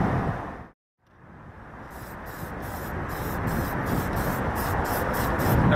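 Steady hiss of a spray gun laying thin coats of paint on a model car body, continuous and close after a brief pause, with no talking.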